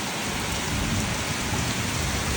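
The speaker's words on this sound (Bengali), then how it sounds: "প্রচুর বৃষ্টি হইতেছে" A downpour in Bhairab hisses as a thick, constant wash of heavy rain, loud and even from start to finish, with no one speaking.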